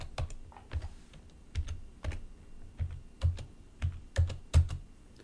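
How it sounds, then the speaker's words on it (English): A password is typed on a computer keyboard as a run of separate, fairly close keystrokes at an uneven pace, with clear gaps between some of the presses. "So I'm gonna enter my current password now."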